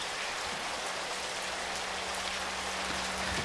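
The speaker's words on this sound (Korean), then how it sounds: "저 소리 좀 들어보이소. 비가 참말로 억수로 오네." Heavy rain pours down in a dense, steady hiss of drops hitting surfaces, with a faint low hum underneath. It is even and unbroken throughout, and no voices are heard.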